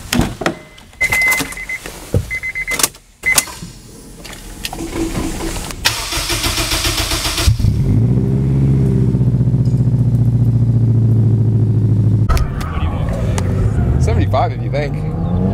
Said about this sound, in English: This is what happens when you put 500 horsepower to an S2000.